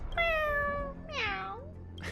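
A cat meows twice inside a video game, the cat sitting in a cake: a long, steady, falling meow, then a higher, wavering one. Both are clear and close over a low background hum, with no talking.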